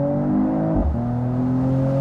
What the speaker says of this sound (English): So once again, Sport Plus mode, and we can accelerate it out, for example